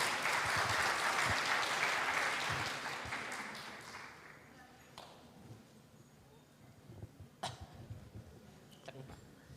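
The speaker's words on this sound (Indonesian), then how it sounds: "Mohon tepuk tangan untuk pemateri kita pada kali ini." An audience breaks into warm applause to welcome a speaker at a university lecture, thick clapping for about four seconds that then thins out into a few scattered claps.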